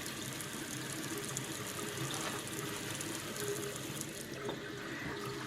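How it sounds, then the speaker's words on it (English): A sink tap runs continuously while dyed yarn is rinsed, giving a steady, close rush of water with faint splashes and no talk. "I'm going to go ahead and rinse the rest of these out"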